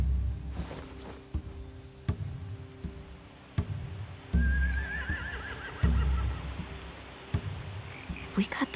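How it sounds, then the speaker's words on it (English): Horses whinny in The Walking Dead video game, with one clear rising neigh mid-clip amid thumping, clopping sounds and rain-like background, fairly close, no voices. "They have horses."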